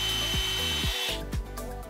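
A power drill bores a 1/4 inch hole through the center of a tall plastic bottle cap. The motor whines in a short, close burst, stutters and pitches down in repeated dips as the bit bites, then trails off.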